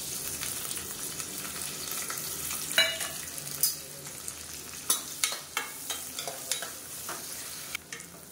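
Finely chopped onions frying in oil with curry leaves and fenugreek for a Tamil kulambu, a soft steady sizzle broken by sharp scrapes and clinks of a stirring spoon against the pan, close and moderately quiet.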